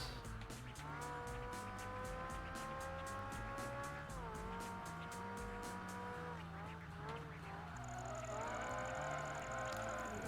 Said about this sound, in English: A little bit of skidding at the end there.